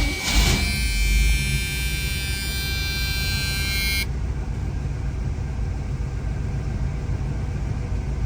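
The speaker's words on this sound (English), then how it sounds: "Let's go ahead and fire this car up." A 1975 Oldsmobile Cutlass S engine fires with a short burst, then settles into a quiet, smooth, even idle. A high buzzing chime sounds over it for the first few seconds.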